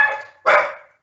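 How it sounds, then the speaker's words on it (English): A dog gives two loud close barks in quick succession, the second sharper and stronger, then falls silent. "sorry, that's my dog."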